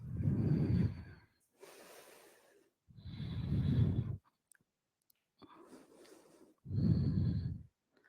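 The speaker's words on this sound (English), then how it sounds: "Focus on your exhales." Slow, deep breathing during a vinyasa power yoga session: three strong exhales alternate with softer, airy inhales in an even rhythm, close and alone with no talk.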